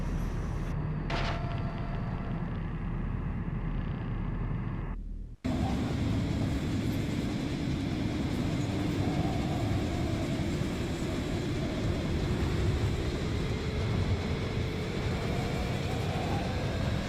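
A train rumbles along in the Poppy Playtime video game, a loud continuous low roar with rattling wagon noise after a brief quieter opening with a faint tone.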